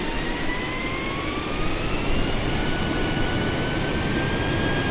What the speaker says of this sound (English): You can hear those auto throttles working.